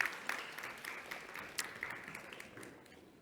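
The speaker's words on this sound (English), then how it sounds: "please do give a big round of applause to Helen from the Reboot Foundation" Audience applause for a speaker from the Reboot Foundation at a women and girls' social media masterclass: fairly faint, thin scattered clapping from a modest crowd, fading over a few seconds.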